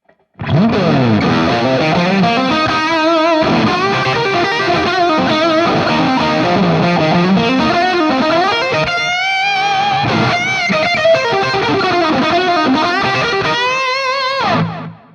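A distorted electric guitar plays a bluesy lead with bends and sustained notes, thick and saturated, filling the space without any talking.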